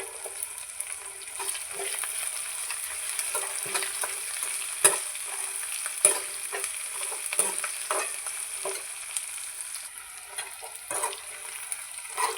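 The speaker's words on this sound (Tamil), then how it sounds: "நல்லா எண்ணெயில் வேகட்டு வெங்காயமும்" Onions fry in oil with a steady, bright sizzle while a spoon stirs them, giving intermittent scraping strokes and occasional louder clicks against the pan.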